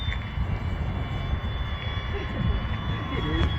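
An eFlite Ultimate 3D RC biplane on a small 3S electric setup flies overhead with a steady, high motor whine and propeller buzz, moderately loud throughout.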